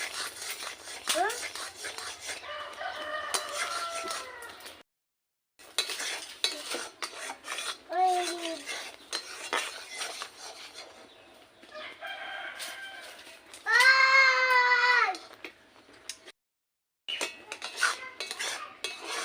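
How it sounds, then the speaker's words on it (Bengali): Raw mango pulp stirred steadily in a pan, the spoon scraping and clinking against the metal in repeated bursts, with short pauses and a bird crowing faintly in the background. "আমি অনবরত নাড়তেই থাকবো, নাহলে লেগে যাবে।"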